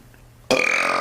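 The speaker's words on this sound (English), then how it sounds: "That's one of the biggest burps I've burped ever." A loud, long burp erupts suddenly after a quiet stretch and holds strong and close to the end, with no talking over it.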